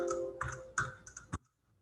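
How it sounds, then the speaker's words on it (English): A few sharp keyboard clicks tap out quickly and close by during a lecture, followed by near silence. "I'm going to type x."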